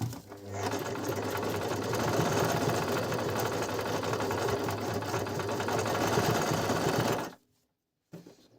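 A Brother LS-1217 sewing machine stitches a zigzag seam through denim, giving a loud, continuous whirring rattle for about seven seconds before it stops dead. A brief mechanical sound follows the silence.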